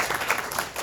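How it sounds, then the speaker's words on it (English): Short burst of applause from a convention panel audience, a dense wash of many hands clapping at once. "Give me some applause"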